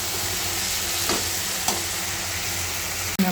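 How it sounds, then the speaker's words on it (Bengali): Vegetables frying in a pan, a dense continuous sizzle with a few soft stirring scrapes, close and steady, no voices. "আর একটু ভাজা ভাজা করে নামিয়ে ফেলবো।"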